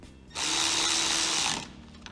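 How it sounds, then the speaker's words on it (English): A preset torque wrench tightens the handlebar bolts on a DRR USA DRX youth ATV, giving one loud, sustained whirring mechanical burst of just over a second that then cuts off into quiet. "So now we're gonna torque it down."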